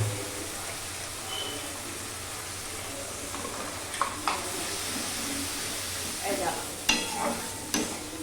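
Chopped ginger, onion and garlic sauté over medium heat in a pan for pointed gourd malai curry, giving a steady low sizzle broken by a few sharp scrapes and clinks of a spatula stirring toward the end.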